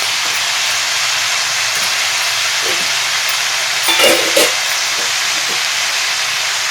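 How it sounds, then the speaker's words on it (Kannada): Steady, loud hiss of escaping steam from a pot steaming hyacinth beans runs throughout without a break, with a few faint clinks and bumps partway through. "ಈ ನೀರಿನ ಹಬೆಯಲ್ಲೇ ಬೇಯಬೇಕು ಕಾಳು"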